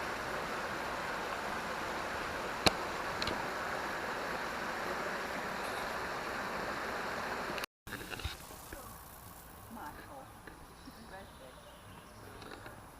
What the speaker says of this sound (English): This must be the water that's flowing past the campsite we're stopping at, mustn't it?